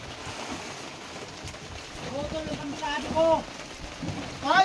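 Rain pattering on a fishing boat at sea during a catch of a large blue marlin, a steady wash of drops with scattered voices and shouts rising over it.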